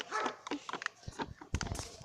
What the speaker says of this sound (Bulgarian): Кучета!